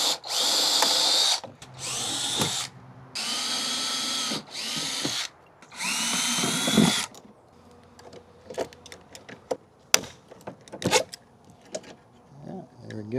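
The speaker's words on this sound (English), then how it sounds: "I'm going to drill these rivets out ever so often" A power drill drills out rivets on a boat cable holder during trolling motor wiring, sounding as four loud whining bursts of a few seconds each, followed by quieter clicks, taps and rattling of tools.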